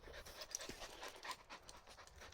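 A dog pants quickly and softly close by during a walk in the woods, rapid breathy rhythm continuing throughout, fairly faint.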